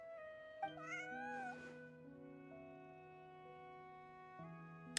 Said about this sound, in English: Lynette speaks cat